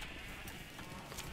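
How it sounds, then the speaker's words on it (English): Sheep in Minecraft bleat briefly over a busy wash of game noise, a short close sound that is fairly quiet, with no talk. "Sheeps."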